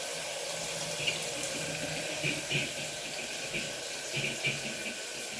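Water runs from a tap into a mixer jar in a home kitchen, a steady, fairly faint splashing stream with a few small bursts and no talk.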